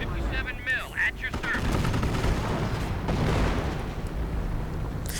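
Artillery and machine gun fire in a video game battle, with rapid bursts and heavy booms layered into dense, chaotic combat noise, and a voice commenting over it.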